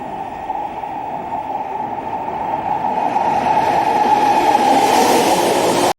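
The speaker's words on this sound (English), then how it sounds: "The sound of the train on the tracks is just right." An AI-generated train passes on the tracks, a steady rumbling roll with a droning tone that swells slightly louder toward the end before cutting off abruptly.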